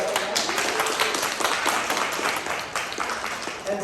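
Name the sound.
audience applause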